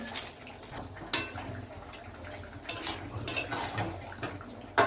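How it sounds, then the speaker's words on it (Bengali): A spoon stirs mutton curry with meat masala in a pan, making close, irregular metallic clinks and scrapes over a low simmer, with no one talking. "ভালো করে এটা আমি মিক্সড করে নিচ্ছি"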